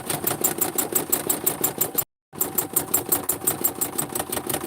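A sewing machine motor running steadily with a rapid, even mechanical clatter, cutting out briefly in a sudden silence before resuming.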